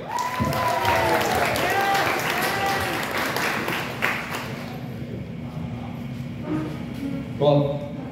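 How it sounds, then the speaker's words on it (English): Wedding reception guests applaud the best man, a crowd of clapping that fades out after a few seconds as voices and room noise take over, with a thump near the end. "Big round of applause for the best man"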